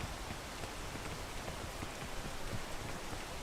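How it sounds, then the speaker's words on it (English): Steady rain falling in the climbing game PEAK, a dense, even hiss of drops with no pauses, moderately quiet and heard alone. "I don't even care about the rain right now."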